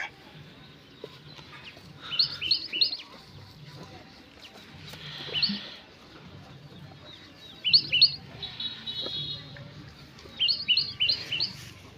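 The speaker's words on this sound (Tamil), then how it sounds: "குருவி தான் சவுண்ட் ஆக்குது கத்துது" Sparrows chirp from a tree in short bursts of quick, high notes, repeating several times against a quiet outdoor background with faint low rumbling.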